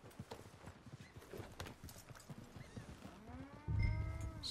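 Horse hooves clop slowly and unevenly in Red Dead Redemption 2, with a low snort or whinny-like rumble near the end, moderately close and without talk.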